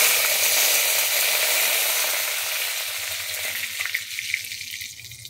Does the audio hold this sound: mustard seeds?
yes